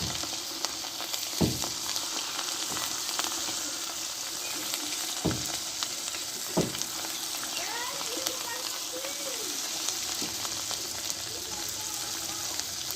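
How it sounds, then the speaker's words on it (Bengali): Cauliflower fritters sizzle steadily in hot oil, a dense crackling hiss that runs throughout, with a few sharp clinks of utensils against the pan and a voice talking quietly at times. "এবার বড়াগুলোকে আমি ভেজে নেবো"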